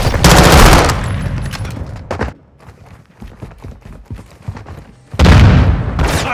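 Automatic gunfire in Call of Duty: Modern Warfare 2 team deathmatch, with loud rapid bursts at the start and end and scattered, fainter shots and game effects in the quieter stretch between.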